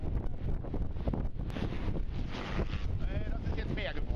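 Fresh breeze blowing steadily across an open kite-flying field, buffeting the microphone with continuous rumbling wind noise for the whole stretch, with no voices present.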